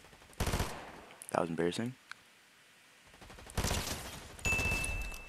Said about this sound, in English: Now I actually hear the gunshots.